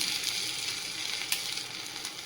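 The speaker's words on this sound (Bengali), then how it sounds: "তেলটা গরম হয়ে গেছে, এইভাবে ছোট ছোট করে পকোড়াগুলো ভেজে নেব।" Small pakoras fry in hot oil, giving a steady, soft, bubbling sizzle throughout with faint crackles and no voices.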